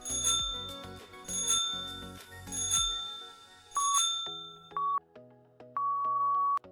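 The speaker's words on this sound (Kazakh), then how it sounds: "Велосипедтің қоңырауы." A bicycle bell rings in several quick metallic dings, a cluster of bright strikes followed by a few spaced single rings with lingering tone, clear and close with no voices.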